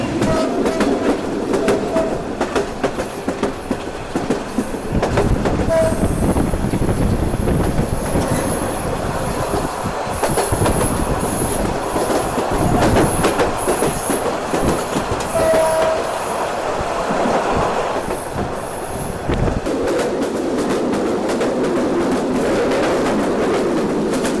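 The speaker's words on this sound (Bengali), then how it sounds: "ট্রেন শুধু জাম্পিং করতে করতে সামনের দিকে এগিয়ে যাচ্ছে" Korotoa Express train rolling over badly worn track, a loud continuous rumble and rattle of wagons with jolting clatter, wheel squeal and brief high whines, heard from inside the carriage without talk.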